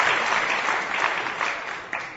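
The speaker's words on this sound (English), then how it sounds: "Okay, now you can clap." Audience at a lecture in Tirupati, India claps steadily and fairly quietly, a continuous even patter of many hands lasting the whole moment.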